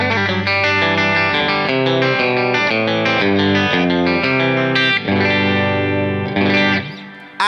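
Fender Jazzmaster electric guitar on its bridge pickup, with a steady run of bright, brisk strummed chords through distortion and chorus, played alone and loud.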